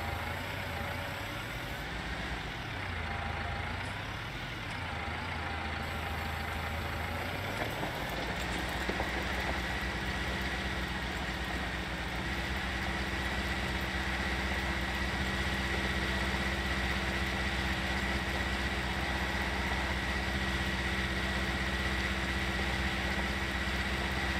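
A tractor engine idles in a farming video game, a steady low rumble that holds even and continuous, with a broad hiss like rain across the whole stretch.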